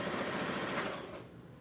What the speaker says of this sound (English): I think he's scared of the sewing machine.